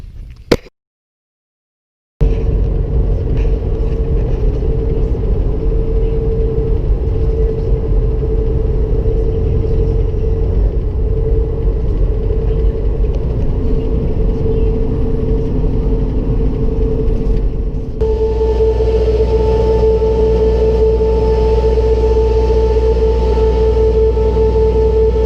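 A pickup truck drives to town with a steady engine drone and road rumble heard from inside the cab, loud and continuous, the tone shifting partway through as the truck changes speed, with no talk.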